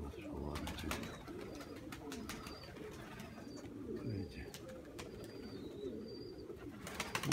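Pigeons cooing in low, throaty bursts that repeat through the whole stretch, fairly near, with faint high chirps and some background noise.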